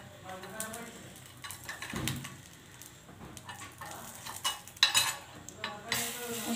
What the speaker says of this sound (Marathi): अशा प्रकारे उलटून टाकूया आपण सगळं।